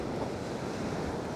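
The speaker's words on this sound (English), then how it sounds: "Sorry about the wind noise if there is any." Strong wind buffets the microphone on Chesil Beach, a loud continuous rumbling roar blended with surf washing on the shore, with no voices.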